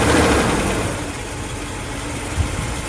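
A Mercedes W126 S-Class engine idles after its engine mounts were replaced, a steady close rumble with an even low hum and no voices.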